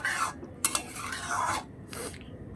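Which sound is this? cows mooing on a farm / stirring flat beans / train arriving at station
stirring flat beans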